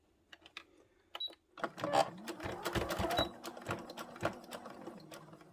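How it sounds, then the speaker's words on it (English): A sewing machine stitches a fleece bumblebee body, starting with a few faint taps, then settling into a close, steady rapid whirring run of stitches with brief pauses. "Back, and I'm going to sew the body. And you want to start off slow."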